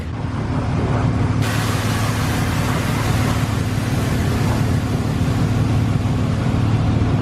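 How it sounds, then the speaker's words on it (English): A loud car exhaust on an Acura TLX rumbles steadily up close, a deep continuous growl with no one speaking. "And the exhaust in the back is pretty loud too."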